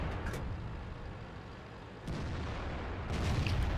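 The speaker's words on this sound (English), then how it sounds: "I should be able to deflect this first shot" Tank cannon fire in World of Tanks around a Maus heavy tank on Kharkov: heavy, booming shots over constant rumbling battle noise, one sharp blast near the start, a louder impact about midway and another near the end, with no talk.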